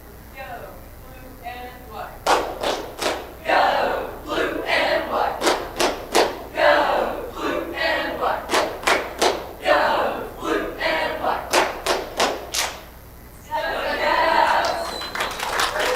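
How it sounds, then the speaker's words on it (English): A cheer squad performs a cheer at a commission meeting, with rhythmic shouted chants punctuated by sharp claps and stomps, loud and close, pausing briefly before a final burst of crowd noise. "they're going to come up here and do a cheer for you guys"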